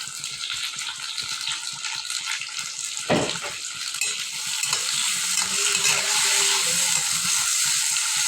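Onions and tomatoes frying in oil in a home kitchen, a soft crackle that grows into a steadier sizzle, with one sharp clatter near the start and some faint stirring knocks.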